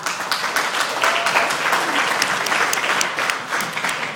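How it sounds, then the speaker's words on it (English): An audience gives a steady, full round of applause, many hands clapping continuously at an even level with little else heard. "let's give Paul a round of applause"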